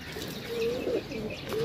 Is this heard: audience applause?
no